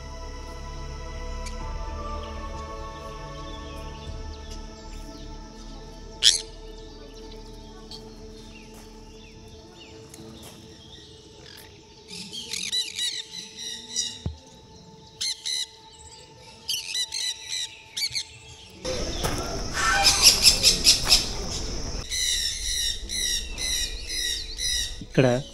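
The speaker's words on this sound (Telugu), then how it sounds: "ఎంత దగ్గర ఉన్నాయి పక్షులు." Birds call, chirp and squawk around a forest park in Pelling, West Sikkim, with scattered tweets early on and a dense, loud burst of close calls toward the end over a quiet outdoor background.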